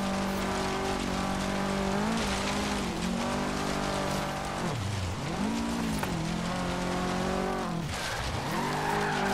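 Car drifting and skidding in Forza Horizon 3 on Xbox One, a loud continuous engine roar with pitch swoops as revs rise and fall, overlaid with steady tire hiss and squeal throughout.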